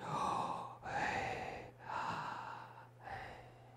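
Slow, deep human breaths, four long inhale and exhale cycles in a row, close and quiet over a faint low hum, with no talking.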